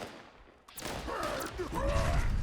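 A plasma caster gun fires in Fallout 76, a sudden loud blast followed by a rolling, sustained burst of energy discharge that builds and stays loud to the end.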